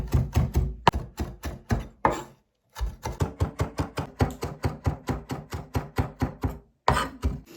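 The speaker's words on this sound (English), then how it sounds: "Let's chop this finely." A knife chops parsley rapidly and rhythmically on a board, close and crisp, with a brief pause before the steady chopping resumes.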